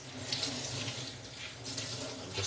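Water splashes and trickles steadily as excess water is wrung out of a wet tie-dyed spiral shirt, a close, continuous running-water sound with faint drips and no speech.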